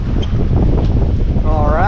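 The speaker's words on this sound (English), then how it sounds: "We are officially sailing, but we are in a little bit of a squall here." A sailboat runs under full sail with a 130% genoa and full main in a squall, with constant roaring wind and water noise buffeting the microphone and a faint whistling tone near the end.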